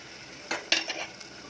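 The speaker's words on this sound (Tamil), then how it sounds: "இப்போ நான் ஊற வச்சுருக்க புளியை போட்டுருவேன் இதில் போட்டு நல்லா கலரி வச்சுருங்க" Soaked tamarind is stirred into rasam in a pan: a few quick scraping and splashing strokes of a spoon against metal, close and brief over a low simmer.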